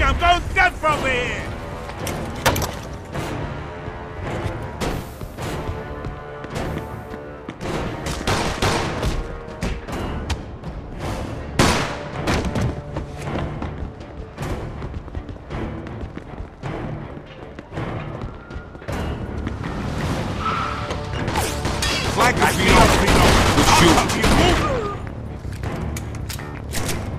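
Gunfire in the video game Mafia 2, a dense run of sharp shots and bursts spread across the scene, loud and close, with occasional thumps and shouting voices mixed in.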